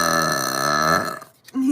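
A long, loud, deep burp rumbles close up for about a second, then trails off before a short vocal sound.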